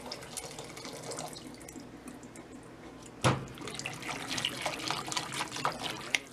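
Water poured from a kettle into a pot of potato soup, a steady close splashing and trickling that swells after a sharp knock midway.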